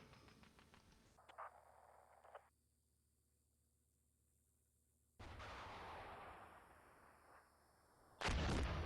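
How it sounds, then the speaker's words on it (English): Military video game combat with tank gunfire and artillery, a few sharp shots early, then a quiet hum broken by a loud, sustained rumbling blast and another heavy burst at the end, with no talking. "We're taking fire here"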